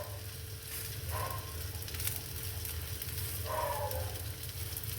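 Urappu adai, a Thanjavur-style mixed lentil pancake, sizzles steadily on a hot pan with a soft, continuous frying hiss and a low background hum, fairly quiet and without any talk.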